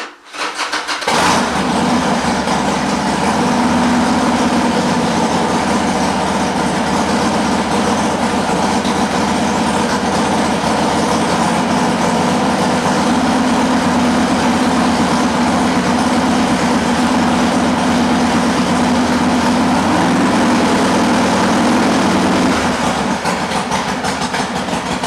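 A Harley-Davidson Sportster motorcycle engine cranks and fires, then settles into a steady, loud, close-up idle that runs on evenly for over twenty seconds before easing off near the end.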